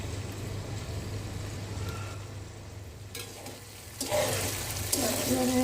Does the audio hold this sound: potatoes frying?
yes